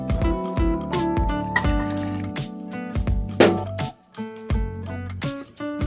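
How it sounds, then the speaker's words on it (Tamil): Ground beetroot juice, blended with a little water, pours and trickles through a filter in a kitchen, with liquid splashes and dribbles, brief clinks and handling noises, and short pauses between pours. "இப்போ அரைச்சிட்டு வந்த அந்த பீட்ரூட்டை நம்ம ஃபில்டர் பண்ணிக்கலாம்"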